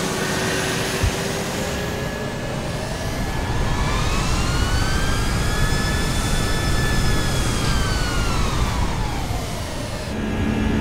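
Jet engines of a Cebu Pacific A320 on a flight simulator approach hum loudly and steadily, with tones rising and falling slowly as thrust changes; no talking.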